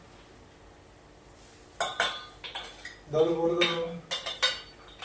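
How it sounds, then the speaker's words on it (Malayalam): Dishes and metal utensils clatter and clink during washing, in irregular bursts of sharp knocks and scrapes after a quiet start, fairly close. "വിഷയം അങ്ങനെ പാത്രം കഴുകുക എന്നുള്ളതാണ്"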